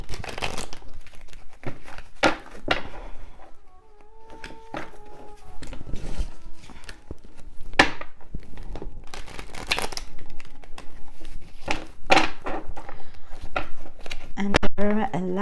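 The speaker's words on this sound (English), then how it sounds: "Give them a little shuffle." Oracle cards being shuffled by hand, a run of crisp riffling and soft card slaps in irregular bursts, close to the microphone with brief pauses between passes.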